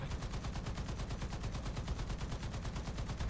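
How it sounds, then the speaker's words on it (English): Rapid, unbroken burst of T77E1 anti-aircraft gun fire in War Thunder, a loud, steady automatic cadence of evenly spaced shots running throughout with no pauses. "We gotta just keep firing and firing and firing."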